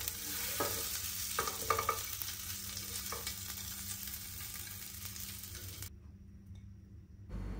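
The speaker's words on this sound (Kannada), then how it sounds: "ಆಗ ಬಾಯ್ಲ್ ಮಾಡ್ಕೊಂಡಿರುವ ಎಗ್ ಇದೆ ಅಲ್ಲ ಅದನ್ನು ಹಾಕಿ ಚೆನ್ನಾಗಿ ಫ್ರೈ ಮಾಡ್ತೀನಿ." Boiled eggs coated in turmeric and chilli powder sizzle and fry in a pan, with stirring clatters early on, a continuous close hiss that cuts off abruptly near the end.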